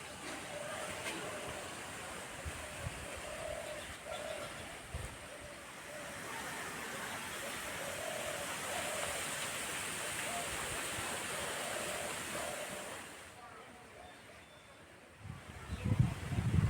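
Tap water runs steadily over freshly scaled katla and bata fish as they are rinsed, a close, broad rushing splash that eases off near the end before a few soft knocks.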